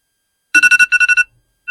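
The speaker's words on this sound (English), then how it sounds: "That is my morning alarm." A morning alarm clock ringtone: two loud, close runs of quick electronic beeps, about eight pulses in all, then a brief start of another run, with no voices.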